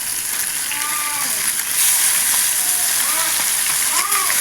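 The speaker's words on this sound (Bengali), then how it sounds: "মাছগুলো ভালো করে ভেজে নেবো।" Small mixed fish frying in hot oil in a kadai for a Bengali chacchari, a steady hiss and sizzle throughout with faint stirring and splatter, no talking.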